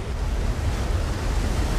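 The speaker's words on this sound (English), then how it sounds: "The tsunami rushes in" Tsunami water rushing in and destroying a bungalow: a continuous, heavy roar of surging water with deep low rumble and broad hiss, loud and unbroken throughout, with no voices.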